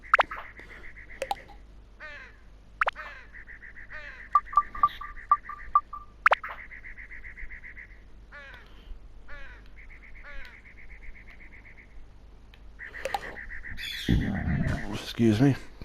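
Birds in the video game Dark Cloud squawk again and again, giving harsh, repeated calls in short bursts at an even distance, with a louder clatter near the end.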